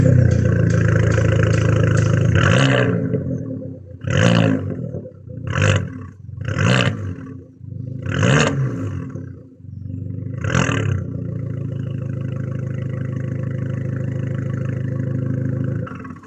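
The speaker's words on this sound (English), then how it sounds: "how about I start the car and give you a few cheeky revs so you can experience the glory of the Toyo Sport straight pipe" A car with a Toyo Sport straight pipe exhaust idles with a deep rumble, then takes five or six sharp, loud revs spaced a second or two apart before settling back to a steady close idle.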